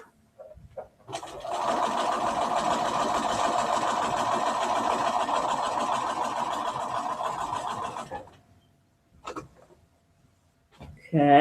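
Sewing machine stitching a zippered pouch runs in one steady, close whir for about seven seconds, with a few small clicks and handling noises before and after.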